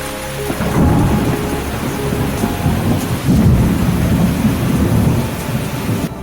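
Heavy rain pours steadily throughout, with deep rolling thunder rumbling close by, swelling loudest around the middle.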